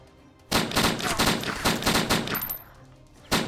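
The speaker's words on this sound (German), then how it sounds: "die schießen auf mich" Close, loud automatic gunfire in the survival game DayZ, a rapid string of sharp shots lasting about three seconds, followed by a short pause and one more crack.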